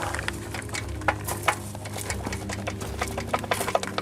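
A tool works the bolt off a Honda motorcycle's gear shift lever, making a steady run of rapid, close mechanical clicks with a few sharper ticks and no talk.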